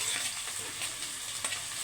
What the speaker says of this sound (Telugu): చిన్నగా కట్ చేసుకున్న ఆనియన్ వేసేసుకుందాం. ఇది కొంచెం బ్రౌన్ కలర్ వచ్చేంత వరకు ఫ్రై చేసుకోండి.